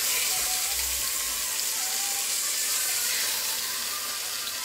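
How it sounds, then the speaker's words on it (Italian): Red mullet fish sizzle steadily in a pan of hot garlic and oil, a dense continuous hiss with no talking. "facciamo giusto imbiondire l'aglio per 30 secondi e iniziamo a mettere le trigliette"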